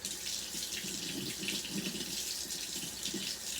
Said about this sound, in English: So I'm going to turn on my water.